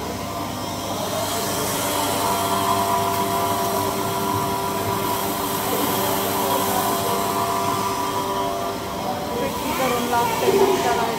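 A flour mill grinding grain runs with a steady, dense mechanical roar and whine, continuous and fairly loud throughout with no breaks.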